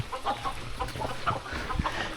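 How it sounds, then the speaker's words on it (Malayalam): Chickens cluck in a mountain village in the Philippines, a scatter of short, soft clucks and calls at moderate distance over an outdoor ambience, with no talking. "കുറേ കോഴിയുണ്ടല്ലോ ഇവിടെ."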